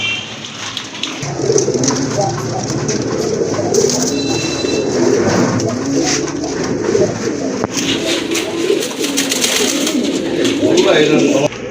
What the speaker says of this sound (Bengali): আরেক জোড়া কবুতর দেখতে পাচ্ছেন এখানে